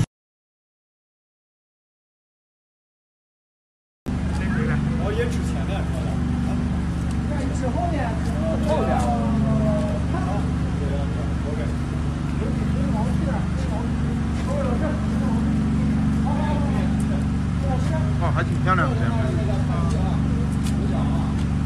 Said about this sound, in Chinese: 我听着发电机的声音